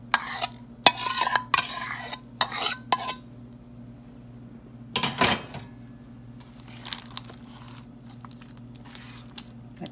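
Beaten curd being stirred into cooked barnyard millet for curd rice, bursts of wet squishing and spoon scrapes against the vessel, then a quieter stretch of soft mixing.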